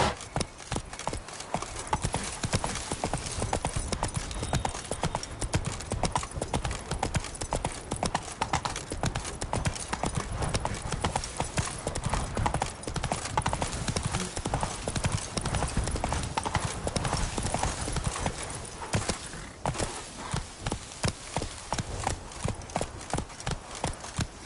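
A horse gallops in The Witcher 3 video game, its hooves pounding out a continuous, fast clip-clop rhythm that stays loud and close throughout the long stretch.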